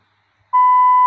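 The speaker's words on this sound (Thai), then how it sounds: "สัญญาณแบบปี๊บๆเช่นเคยนะครับผม" A single steady electronic test beep starts abruptly and holds at an even pitch, loud and clean against silence, likely a tone played through a mixer alongside a 25 A transformer.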